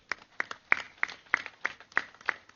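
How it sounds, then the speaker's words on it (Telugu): An audience at a meditation gathering in Krishna district claps in a steady, evenly spaced rhythm, the claps sharp and moderately loud with a quiet pause between each. "ఆ ప్రాజెక్ట్ ఒకసారి గట్టి క్లాప్స్ కొడదాం"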